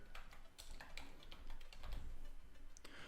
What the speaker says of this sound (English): So I can edit this and just type